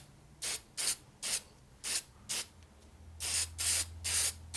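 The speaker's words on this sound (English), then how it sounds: "So this is really a thick spray. See how it covers real quick with one layer." Short hissing bursts of a spray can applying thick sealant coating on a Harley S&S 113ci Evo motor, several quick pulses followed by longer sprays, close and clear with no speech.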